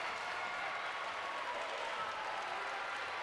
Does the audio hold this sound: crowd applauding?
yes